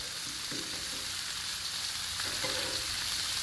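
Purple onions fry in bacon grease on a Blackstone griddle with a steady close sizzle, and a spatula scrapes and stirs the pile now and then.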